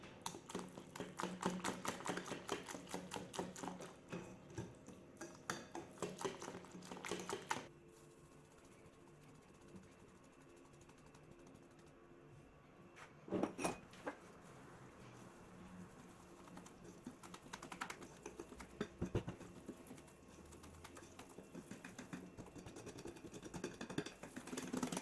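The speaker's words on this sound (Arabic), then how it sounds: "غادي نخلط وغنستمر في اضافه الدقيق حتى كنحصل على القوام المطلوب ديال الكيكه ديالي" Pineapple cake batter being mixed while flour is added, a busy scraping and whisking clatter that runs in bursts, pauses briefly, then resumes with uneven rhythm and moderate closeness.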